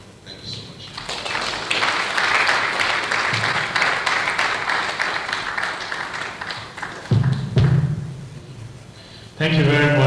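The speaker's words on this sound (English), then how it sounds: "Please another round of applause for him." A conference audience at a safety practice stakeholders' meeting breaks into sustained applause that swells and holds for several seconds, then fades as a voice begins talking.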